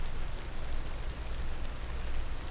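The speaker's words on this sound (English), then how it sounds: "The rain got heavier." Heavy rain pours down steadily in a dense, unbroken hiss of drops striking surfaces, loud and close throughout with no voices.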